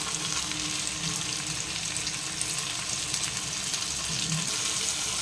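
Potatoes and chopped onions fry in oil with a constant, dense crackling sizzle, near and even throughout, with faint stirring underneath.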